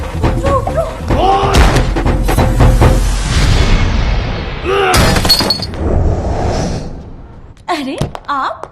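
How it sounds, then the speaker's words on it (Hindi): A door is forced in a tense domestic scene: heavy thuds and slams with splintering crashes, loud and close, mixed with raised voices, gasps and a background score. "दरवाजा खोल दे, मैं दरवाजा आज तोड़ दूंगा।"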